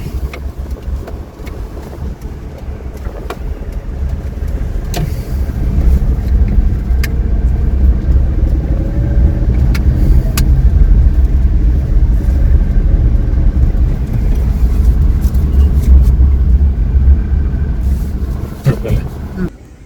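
A car engine rumbles low and steady while the vehicle is being parked near a temple, swelling slightly about midway, with a person talking over it.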